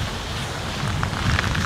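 Heavy rain beside the sea, with wind: a dense, continuous wash of falling rain, loud and close, with no voices over it.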